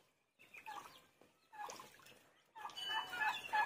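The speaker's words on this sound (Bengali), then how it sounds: "মুরগির বাচ্চাগুলো খাইয়ে যাচ্ছে এখানেই" Young chickens about two months old peck at feed near a duck bathing tub, giving soft clucks and chirps in short bursts that grow livelier toward the end, with faint splashing.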